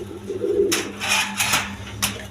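Pigeons coo on a farm where Beauty pigeons sit on eggs in pots, with several soft throaty coos in short bursts over a steady low hum.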